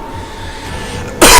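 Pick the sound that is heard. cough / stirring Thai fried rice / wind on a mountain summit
cough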